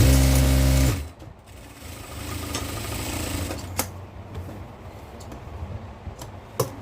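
A sewing machine stitching a petticoat begins with a loud, close whir for about a second, then gives way to quieter clicks and a few sharp ticks.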